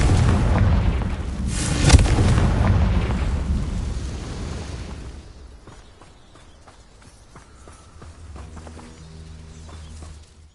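In Hogwarts Legacy on PS5, a Confringo fire spell explodes with a loud, sharp boom about two seconds in. A roaring rumble follows and fades over several seconds into quieter game ambience with light mechanical clicks and tones.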